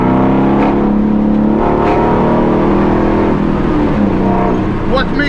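A Ford Mustang GT500 Eleanor with a manual gearbox drones and revs while driving, its engine note heard from inside the car, steady and fairly loud, with some shifts in pitch.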